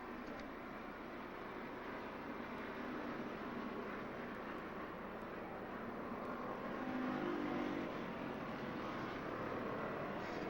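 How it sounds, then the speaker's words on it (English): Late model race cars at Stafford Motor Speedway under the lights, a continuous distant engine roar from the pack circling the track, swelling slightly toward the end. "Coming off of turn 4 for Dean Casagrande, winning the late model feature this July 8th, 1997 under the lights at Stafford Motor Speedway."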